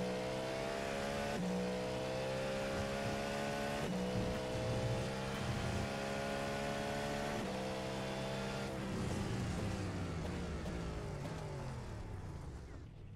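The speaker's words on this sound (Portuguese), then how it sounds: "Um ronco extraordinário aqui, muito legal de ouvir o carro na pista." Roaring engine of a Cadillac LMDH prototype race car on track in iRacing, a loud sustained howl rising through gears with sharp shift breaks, fading slightly toward the end.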